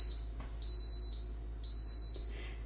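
An electric pressure cooker beeps as its start button is pressed: two steady high-pitched tones, each held about half a second, over a low hum in a quiet kitchen.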